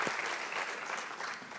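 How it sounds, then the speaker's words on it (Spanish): Audience applause at an international law congress, a sustained, even wash of many hands clapping that fills the room steadily from start to finish. "vamos a despedir con un fuerte aplauso"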